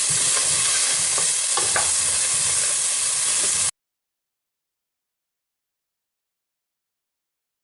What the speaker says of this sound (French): Je mets l'oignon sans rajouter de graisse. Je vais le faire suer quelques secondes.